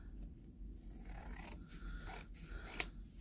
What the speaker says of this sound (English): so I'll cut it down.